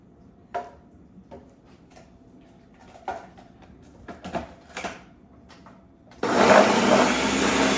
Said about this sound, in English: we're going to add some almond butter and we're going to blend it up